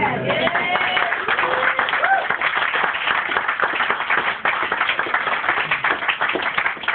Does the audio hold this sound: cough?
no